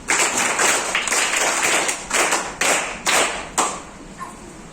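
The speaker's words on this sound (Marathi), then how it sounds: "यांच्या प्रोजेक्टसाठी टाळ्या वाजवा." Children in a fifth-grade classroom clap for a school project, a loud, close burst of many hands applauding together for a few seconds before it tapers off with a few last claps.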